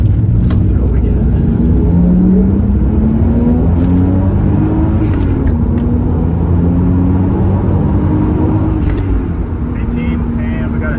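A straight-piped Toyota Supra engine revs and climbs steadily in third gear as the driver tries to spin the tires, a loud continuous drone heard from inside the car, with people talking over it.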